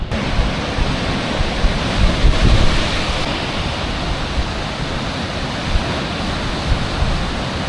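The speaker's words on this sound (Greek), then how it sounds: "Έχει αέρα σήμερα, οπότε έχει πάρα πολύ κύμα." Strong Mediterranean surf churns in a dense, continuous roar on a windy day off a rocky shore in Sicily, with gusts buffeting the microphone throughout.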